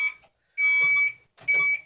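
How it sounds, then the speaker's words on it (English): Kitchen timer beeping while homemade caramel corn cooks: two sustained electronic tones about half a second each, with a brief faint chirp at the start, close and clear. "Beep timer. Beep timer."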